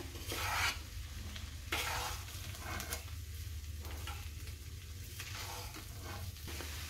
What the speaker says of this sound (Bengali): এটাকে হালকা হাতে আমি নাড়াচাড়া করে নিচ্ছি